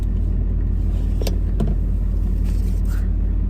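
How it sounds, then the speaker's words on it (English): A car's noisy air conditioner runs steadily as a loud, constant broadband hum filling the cabin, with a couple of brief clicks and faint rattles on top and no talking. "My air conditioner in here is noisier than old air conditioner in a house."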